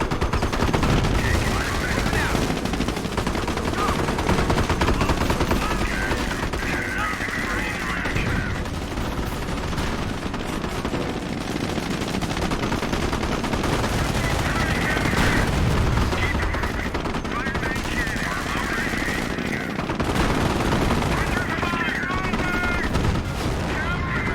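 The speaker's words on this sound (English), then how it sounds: "Good tank battle there." A tank battle in the World War II strategy game Company of Heroes, with German and US armor clashing amid dense, continuous gunfire, machine-gun bursts and heavy booms. Occasional voices sound beneath the din.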